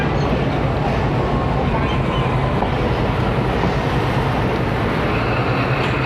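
Awam Express 13UP passenger train pulling away from a station on the Lahore–Peshawar line, a steady dense rumble of wheels and carriage noise close by, continuous throughout with faint clatter and no clear voices.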